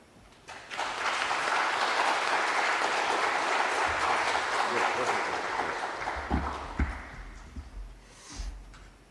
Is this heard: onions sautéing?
no